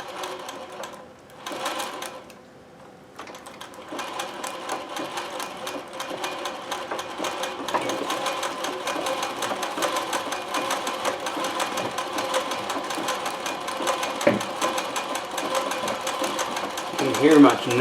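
Consew CN2053R-1A industrial sewing machine doing free motion embroidery, a fast continuous mechanical whirring and clatter that starts, briefly stops, then runs steadily close by, with a person talking over it.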